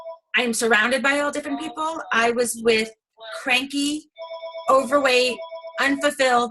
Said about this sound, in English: Oh, that's my phone. It's going to be noisy.